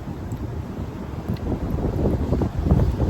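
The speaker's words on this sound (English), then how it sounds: "it's a little bit windy right now" Steady, rumbling wind buffeting the microphone, low and gusty, growing a little stronger toward the end, with no voices.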